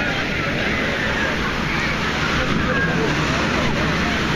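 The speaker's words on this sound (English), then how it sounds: "Some decent sized waves still coming in." Decent-sized ocean waves roll in on a beach, a steady broadband wash of surf that stays loud and continuous, with faint crowd babble mixed into the background.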